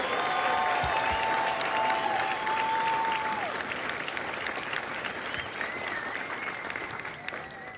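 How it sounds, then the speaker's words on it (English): Sustained applause from a large audience at a Marine Corps recruit graduation ceremony at MCRD San Diego, a dense, steady wash of clapping that gradually fades, with a faint tone and some crowd noise underneath. "please join me in a well-deserved round of applause for the drill instructors and families of Charlie Company"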